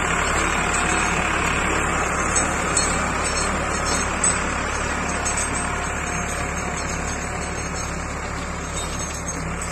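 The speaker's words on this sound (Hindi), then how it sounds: "मेरे पीछे गेहूं की बुआई हो रही है ट्रैक्टर के द्वारा," A tractor pulling a rotavator while sowing wheat in a farm field gives off a steady, unbroken engine drone with mechanical rumble, continuous and fairly loud for the whole stretch, with no talking.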